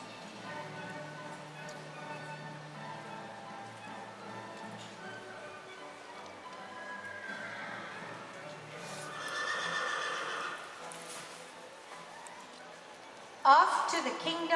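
Horses named Twinkles and Johnny whinny and clop their hooves as a door rises, soft steady hoof steps under low murmuring, then a sudden loud neigh near the end.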